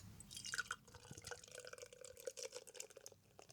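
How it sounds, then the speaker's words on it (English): Beer poured from a bottle or can into a glass on a Saturday night, giving a quiet, steady trickling and dripping pour with a few small splashes and fizz throughout, fairly faint and close, with no talking. "Just going to pour a bit of my beer out."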